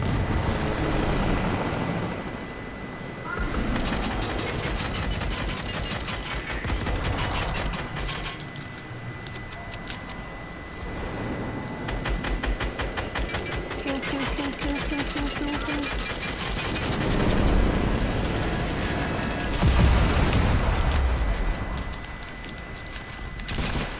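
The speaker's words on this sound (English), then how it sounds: "Somebody shooting." Gunfire and explosions in an online battle video game with helicopters around: dense bursts of rapid shots and booms run almost continuously at moderate volume, with brief quieter gaps.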